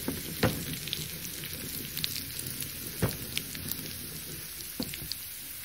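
Curry leaves, cumin and mustard seeds sizzle in hot oil in a pan, a steady close crackle broken by sharp pops and spits, with no one speaking.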